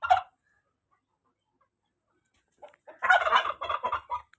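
Fowl call in bursts, a short gobbling cry, then a pause, then a louder run of rapid gobbling and clucking at close range.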